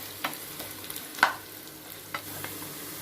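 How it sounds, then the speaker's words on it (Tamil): Three large sliced onions frying in oil in a saucepan over a medium flame, a quiet sizzle broken by a few brief scraping stirs. "3 பெரிய வெங்காயம் வெட்டி இன்னும் ஸ்லைஸ் பண்ணி இதை நீங்கள் ஃப்ரை பண்ணி எடுத்துக்கங்க"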